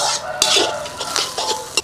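Onions fry in a pan until brown for a simple chicken fry, while a spoon clinks and scrapes against the metal in short, uneven strokes over a soft background sizzle.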